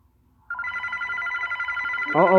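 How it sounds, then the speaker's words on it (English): A telephone rings in a continuous trilling tone with no break, and a voice cuts in over the ring near the end. "Oh, your phone call."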